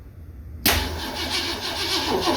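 A 1967 Ford Mustang V8 with a carburetor turns over and catches, a sudden loud close roar bursting in after a quiet moment and settling into a rough, pulsing idle.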